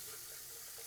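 Tap water runs steadily into a sink while a jar is rinsed, a continuous close splashing hiss with no voices, part of making grapefruit cordial.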